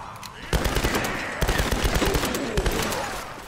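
Rapid automatic gunfire from the 2013 Tomb Raider video game, loud bursts of repeated shots coming in two or three clusters over a steady background.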